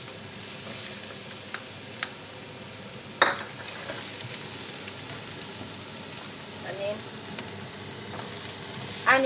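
Onion and garlic fry in a pan for cumin chicken, a faint steady sizzle with a few sharp clicks and scrapes from stirring, fairly quiet and close, with no talking.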